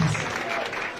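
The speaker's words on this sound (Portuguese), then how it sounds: "Palmas, família, palmas!" Short burst of crowd applause at a Brazilian freestyle rap battle, dense and close, with voices mixed into the clapping.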